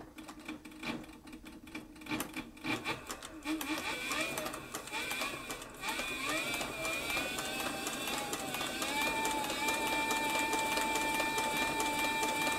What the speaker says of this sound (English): this machine has plenty of power, and it'll really travel if you want to go ahead and floorboard it.